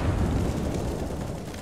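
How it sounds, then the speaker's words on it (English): Grenade explosion in the CS:GO video game, a single deep, rumbling blast that fills the short moment and slowly decays. "Grenade out!"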